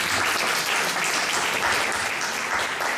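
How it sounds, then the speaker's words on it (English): Dense, steady audience applause following the introduction of a Carnatic vocal concert, sustained and loud throughout with no gaps. "Let us give him a big round of applause"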